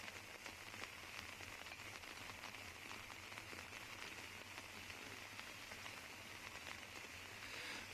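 Steady rain falls on a disc golf course, a dense even hiss of drops on surfaces that runs unbroken throughout, with no talking.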